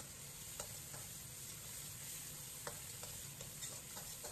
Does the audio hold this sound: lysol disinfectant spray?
no